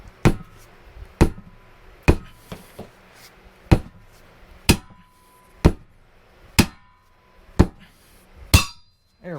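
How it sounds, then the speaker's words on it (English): Repeated sharp metallic strikes from a duckbill hammer during repair work on a John Deere Gator 4x2, about ten loud, evenly spaced blows with quiet gaps between them and no talking. "Nothing the duckbill hammer won't take care of."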